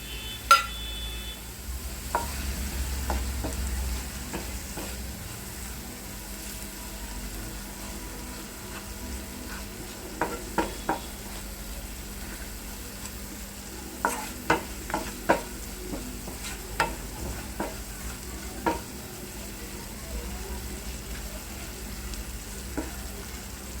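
Onion frying in a pan with homemade red masala, asafoetida powder and Schezwan masala, a soft steady sizzle broken by a run of sharp spoon scrapes and clacks as it is stirred, no voices.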